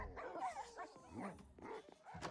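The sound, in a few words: dogs barking in Minecraft, video game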